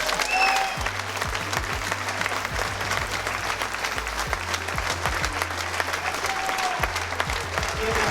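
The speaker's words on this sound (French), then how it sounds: "vous méritez plein d'applaudissements" Applause for hot air balloon crew members at the 2016 French hot air balloon championship in Mirebeau, sustained dense clapping from a crowd with a low hum and a few faint voices underneath.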